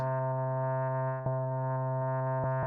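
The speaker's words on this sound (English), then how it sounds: "we're effectively just playing one of these 64 wave snippets, if you like, that make the wavetable" Wavetable synth tones from Ableton Live 12 Simpler hold as a steady, buzzy, harmonically rich drone at one pitch, with a couple of brief clicks where the tone shifts, heard alone.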